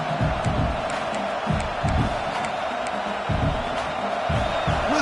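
A large stadium crowd in the college football video game NCAA 26 roars continuously, a dense wash of cheering and shouting with faint whistles, loud and unbroken throughout.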